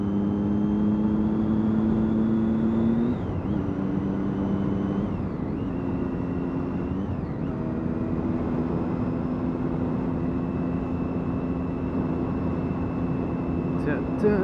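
Triumph Daytona 675 three-cylinder motorcycle engine, a steady loud drone with a few slight pitch dips as it shifts, close and continuous.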